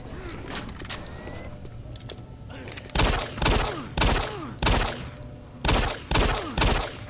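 Gunfire from the first-person shooter Doom 3: after about three seconds of dim ambience, seven or eight loud, sharp shots ring out in an irregular rhythm, each with a short decaying tail, close and dominant.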